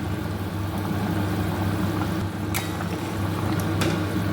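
Fish curry with potatoes and aubergine boiling in a pot, a steady low bubbling hiss throughout with a couple of brief sharp clinks.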